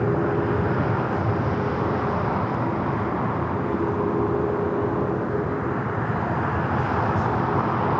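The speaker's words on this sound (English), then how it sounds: "We have the final Southern DHL co-branded delivery on this 777 freighter. Is going to be taking off momentarily to Cincinnati." A DHL Boeing 777 freighter rolls for takeoff bound for Cincinnati, a steady, loud broadband jet roar holding evenly throughout with no talk over it.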